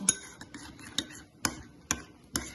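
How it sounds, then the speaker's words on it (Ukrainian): Garlic sauce being stirred in a bowl until smooth, a spoon tapping and scraping the bowl in a steady rhythm of about six light clinks, close and quiet with no talk. "Додаємо до соусу а все гарно перемішуємо до однорідності."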